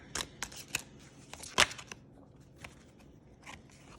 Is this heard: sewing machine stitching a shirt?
no